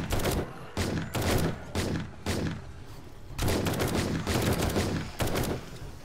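Rapid bursts of automatic gunfire in the 7 Days To Die zombie survival game during a horde night, about eight sharp, loud volleys separated by brief pauses, with no talk.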